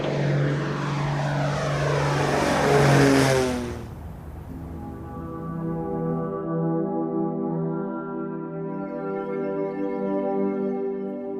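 A WWII bomber's propeller engines run up before takeoff, a loud blaring roar that drops back into a steady, throbbing multi-engine drone, rising slightly in pitch toward the end.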